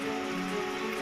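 Steady rain falls over Dahod in Gujarat, a soft, even wash of drops with a faint tonal hum running underneath throughout.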